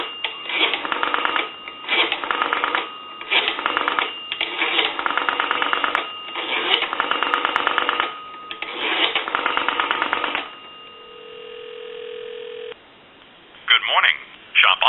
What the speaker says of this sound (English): Give you some dial tone. And I want to call, say, like a time and temp number.